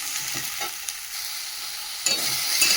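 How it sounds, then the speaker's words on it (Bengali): Potato and eggplant sautéing in oil with salt and turmeric, a steady soft sizzle with a few scraping stirs of a spatula in the pan, then a louder burst of frying near the end. "আলু বেগুনটা একটু সাঁতলাবো নুন হলুদ দিয়ে"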